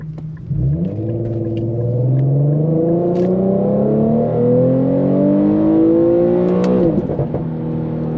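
An Infiniti Q50 with a burble tune revs hard through a manual paddle-shifted gear, its engine note climbing steadily for several seconds before a sharp shift and crackle near the end, loud, close and without voices.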